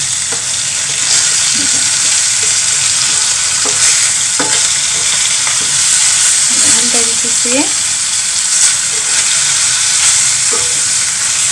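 Fish frying in an oil-filled wok makes a loud, steady sizzle close by, with occasional scrapes and clinks from stirring throughout.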